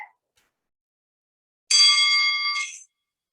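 A single meditation bell struck to open a yoga session rings out alone after a short silence, its bright sustained tone holding for about a second before fading.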